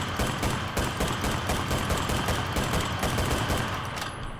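Sustained automatic gunfire from the video game Enlisted, a dense, loud, rapid stream of shots rattling without pause for several seconds, heard close and alone.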